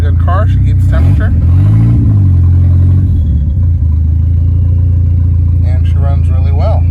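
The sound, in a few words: car engine running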